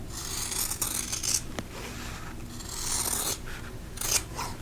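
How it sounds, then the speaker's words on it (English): Scissors snip through quilting fabric along a drawn line, cutting pieces for half-square triangles. Two bursts of crisp, close blade rasping are separated by a quieter pause, with no talking. "we're going to cut on the drawn line."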